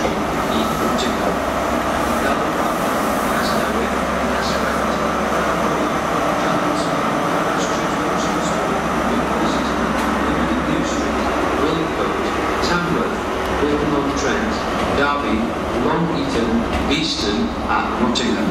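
Rumbling rail noise fills a platform at Cardiff Central station as a train idles and moves, with occasional squeals and clicks while voices and Welsh and English announcements carry over it.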